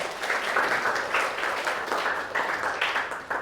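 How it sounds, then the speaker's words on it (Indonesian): A classroom of students in a tax administration lesson claps together in a sustained round of applause, with pulsing swells of hand claps and no talk over it. "tepuk tangan buat kita semua"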